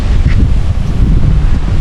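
Strong wind at a Lumut Lake campsite buffets the microphone in a loud, constant roaring blast, with no voices over it.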